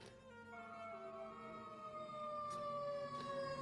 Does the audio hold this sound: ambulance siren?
yes